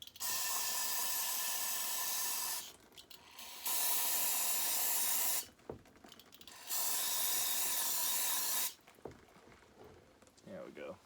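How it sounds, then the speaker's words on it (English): Aerosol cleaner sprayed onto parts of a torn-down McCulloch 850 chainsaw engine in three long steady hissing bursts, close and loud, separated by short pauses with faint handling noise. "we'll give her another spray"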